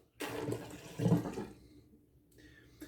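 Water splashes from a faucet while a bathroom sink is rinsed out after shaving, two short close gushes followed by a fading trickle, with no voices.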